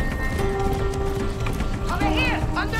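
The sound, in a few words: horse hooves galloping in video game Far Cry 6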